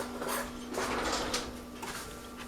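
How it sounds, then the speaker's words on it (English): Kitchen cutlery rattling as a spoon is fetched from a drawer, with a few light metallic clinks and a sliding rustle close by. "Let me get a spoon to get some of that out of there."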